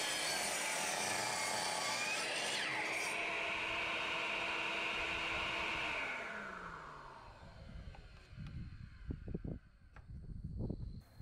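A miter saw set to 22.5 degrees cuts wood for a workbench apron, with a loud steady whine of the blade through the cut that winds down after about six seconds, followed by clattering knocks as pieces are handled.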